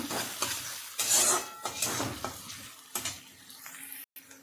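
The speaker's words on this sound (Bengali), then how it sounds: "এবার পেঁয়াজ কুচিটার মধ্যে দিয়ে দেব পেঁয়াজটাকে হালকা করে একটু ভেজে নেব" Chopped onions sizzling in hot oil in a pan, a steady close frying hiss with occasional stirring scrapes of a utensil, no voices.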